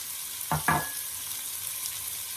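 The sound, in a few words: hot peppers added to frying pan, sizzling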